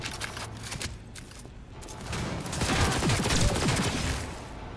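Gunfire in the video game Cyberpunk 2077: rapid bursts of shots, quieter at first, then a denser, louder fusillade in the second half, with no voice heard.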